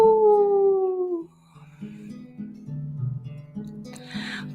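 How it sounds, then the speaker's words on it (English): A dog howls in a long, falling tonal wail, then breaks into low, wavering whimpering moans that carry on at moderate level. "Howl!"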